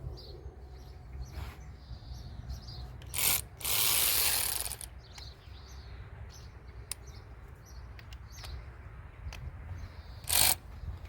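A ratchet loosens two 10mm bolts on a cover, making close, crisp clicking bursts with short quiet gaps between them.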